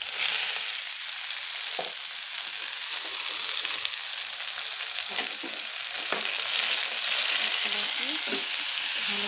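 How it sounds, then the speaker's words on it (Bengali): Jute leaves tipped into browned onions in a hot pan bring a steady close sizzle, with occasional light clinks and stirring knocks throughout. "বাদামি হয়ে গেছে, এখন আমি এর মাঝে শাকগুলোকে ঢেলে দিব।"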